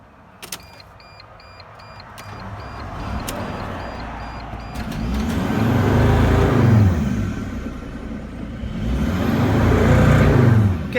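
Mercedes Sprinter van with a turbo actuator problem, its engine idling and running on after being switched off, a low rumble that swells and fades in surges, with faint clicks early on and no talk.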